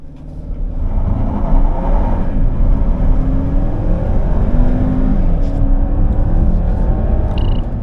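A 2024 Hyundai Santa Fe 2.5T two-wheel-drive SUV pulls away from a standstill under full throttle, its engine note rising loud and steady with some road and wind roar throughout, and no talking.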